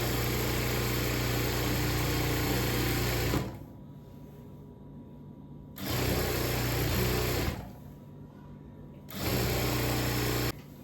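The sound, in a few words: sewing machine sewing a double stitch on a churidhar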